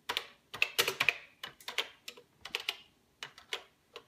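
Quick, uneven bursts of keystrokes on a computer keyboard, typed with one hand while running a CP/M emulator on a 6809 machine, with short pauses between clusters of clicks, close and fairly quiet, no talking.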